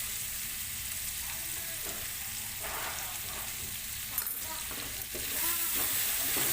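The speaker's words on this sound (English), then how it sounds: "And then saute until the tomato gets soft and smashy" Chopped tomato with a sprinkle of salt sautéing in a pan for fish biryani, a low, even sizzle with a few light stirring knocks near the end.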